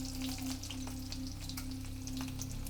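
Oil sizzles steadily and evenly close by as garlic and cumin fry in a pan, with a low constant hum underneath and no talking.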